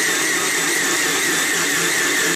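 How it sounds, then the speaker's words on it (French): A food processor grinding Oreo cookies into a thick paste for a cheesecake base, a loud, steady whirring motor drone that holds unbroken throughout. "Là, le bruit est différent, ça fait une pâte. Et je vais aider mon mixeur en mélangeant."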